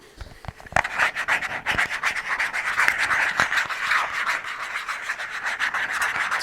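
Close, continuous scratching and rubbing on an object, opening with a few sharp taps and then settling into a dense, steady rasp without pauses, heard alone with no talking.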